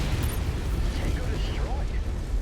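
A destroyed mech exploding in MechWarrior 5 makes a dense, sustained rumble with heavy low-end roar that stays loud and continuous for a couple of seconds, with no clear separate bangs.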